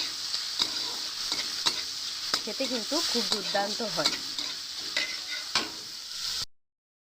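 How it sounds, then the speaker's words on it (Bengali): Chopped onions and ginger frying in a pan for egg chow mein: a continuous close sizzle with crisp crackles and stirring scrapes, while someone talks briefly in the middle, before the sound cuts off abruptly. "চলুন এবারে পেঁয়াজগুলো একটু লাল লাল করে ভেজে নিই।"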